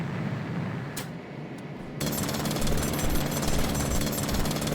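A video-game hand drill grinds into rock with a continuous, dense rattling buzz that drops briefly and then resumes louder and steadier, with no one speaking.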